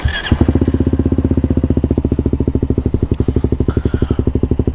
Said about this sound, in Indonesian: untuk suara idle-nya dari knalpot Akrapovic Purbalingga